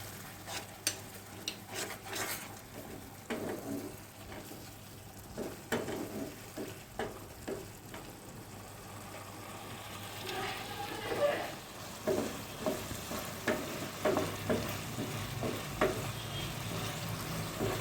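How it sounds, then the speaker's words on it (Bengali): Spice masala with turmeric, chilli powder and garam masala fries in a pan for egg curry, sizzling softly as a utensil stirs with rhythmic scraping strokes, with a short stretch of speech partway through. "আমি মশলাটাকে ভালো করে কষিয়ে নিয়েছি।"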